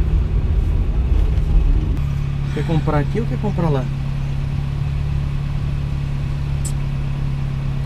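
A Chevrolet Chevette with a four-speed gearbox rumbles low as it accelerates and then cruises on a street, its steady engine drone running under a conversation inside the car.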